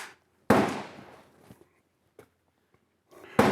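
An M1 Garand rifle fires outdoors, two loud sharp reports spaced about three seconds apart, each trailing off in a short echo, with faint rustling between them.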